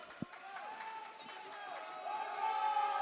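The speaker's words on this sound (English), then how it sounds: "As you can hear the crowd getting right into it here" Crowd at a men's college basketball game building in volume, whoops and scattered claps rising into sustained cheering toward the end, with a sharp thump early on and speaking over it.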